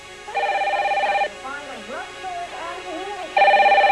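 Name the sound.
telephone ringing for an unanswered call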